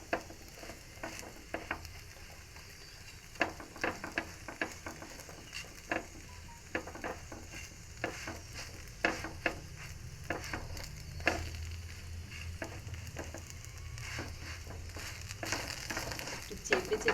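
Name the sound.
frying flatbread pressed down in a pan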